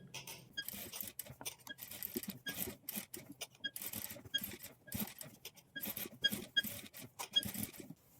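A domestic sewing machine running a top stitch along a blouse neckline, a steady patter of quick needle strokes in short bursts with brief pauses, close and clear with no talking.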